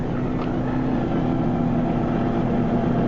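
Rider number 5's motorcycle struggles to accelerate at the 1993 Embrun World Cup Series race, giving a steady, strained engine drone with a constant low hum that never rises in pitch.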